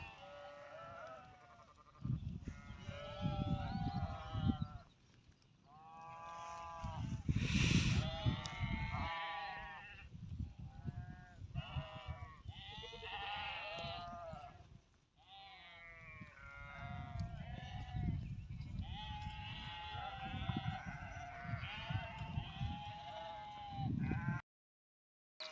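A flock of sheep at a livestock fold bleats almost nonstop, with many overlapping calls at different pitches and distances, some loud and close, over a grassy outdoor background.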